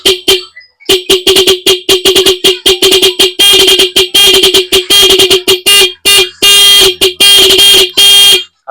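A loud motorcycle horn honked in rapid bursts, short beeps chained into a stuttering rhythm with a few longer blasts, close and harsh.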